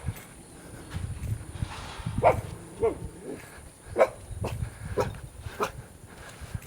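A dog gives a handful of short, spaced barks on a street in Bali, at moderate distance, over quiet outdoor background noise.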